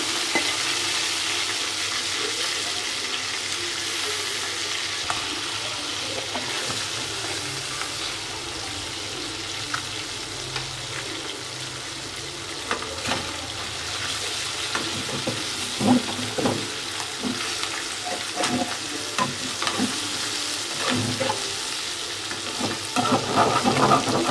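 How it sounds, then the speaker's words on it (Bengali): Shing fish and fish roe fry in a pan of hot oil with a steady, busy sizzle throughout, and louder spatters and pops break through in the second half. "মাছগুলো সুন্দর করে ফ্রাই হয়ে গেছে"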